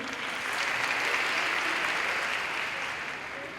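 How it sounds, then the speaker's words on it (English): Applause from a conference audience, a steady, even wash of many hands clapping for several seconds at moderate distance, fading slightly at the end. "A round of applause, please."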